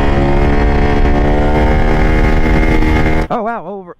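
A motorcycle rides along the road with a loud, steady engine drone that holds an even pitch for several seconds. It cuts off abruptly, and a person starts talking.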